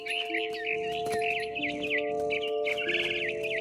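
A mother bird in the video game What Remains of Edith Finch chirps in quick warbling phrases over a sustained synthetic musical drone, bright and close throughout.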